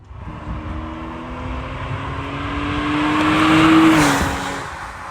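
A Porsche 911 991.1 Convertible passes with its exhaust rising in pitch as the engine revs up, swelling louder toward a peak before easing off as it moves away.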